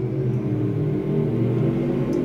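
Race cars in a dirt-track heat race circle the oval side by side, a steady close engine roar and rumble holding continuously without letup.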